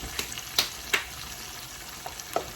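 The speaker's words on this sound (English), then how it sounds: "And let them fry" Moist crab pieces fry in hot oil with garlic, salt and pepper, giving a close, continuous sizzle broken by a few sharp pops and crackles.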